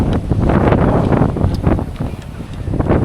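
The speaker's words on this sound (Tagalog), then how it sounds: "Ba, lakas ng hangin, guys." Strong, gusty sea wind on Manila Bay roars steadily over a microphone outdoors, with a broad rushing noise that swells and dips in loud bursts.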